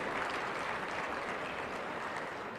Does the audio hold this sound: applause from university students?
yes